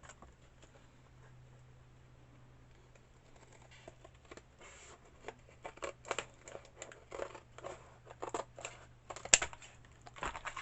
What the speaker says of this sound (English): I'm just going to take a very sharp pair of scissors.